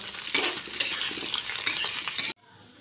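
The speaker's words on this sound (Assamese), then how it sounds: "এতিয়া মই অকণমান লাইট কালাৰ চেঞ্জ হোৱালৈকে ফ্ৰাই কৰি ল'ম।" Potatoes fry in a pan with a continuous close sizzle, punctuated by clinks and scrapes of a utensil stirring against the metal, ending abruptly in near silence.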